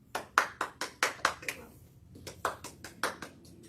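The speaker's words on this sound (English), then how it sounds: "Let me get my crowd to clap for me." A small crowd clapping during a radio show, sparse individual claps in two short bursts separated by a brief pause, close and distinct.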